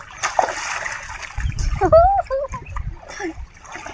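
Brief splashes and sloshing of bathwater while washing off Holi (Dhuleti) colours, close by and mixed with talking voices.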